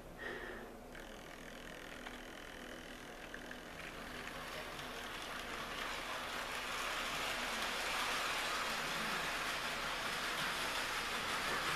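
A Hornby model of the Great Northern A1 Gresley locomotive runs along its track with a steady, hissing whir that grows gradually louder and more continuous, with no voices over it.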